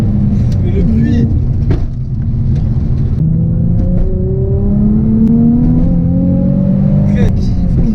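Nissan 350Z with a naturally aspirated engine accelerating on the road, revs climbing steadily as a loud, continuous drone, with excited talking over it.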